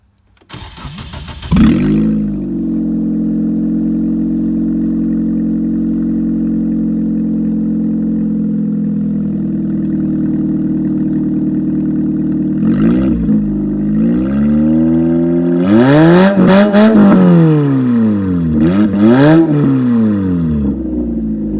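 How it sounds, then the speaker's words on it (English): A Nissan 200SX SE-R engine, still running after a demolition derby, cranks and catches, then settles into a steady idle before several sharp revs climb and drop near the end, close and loud with no talking. "I wanted to see how well and show you guys how well the motor still runs."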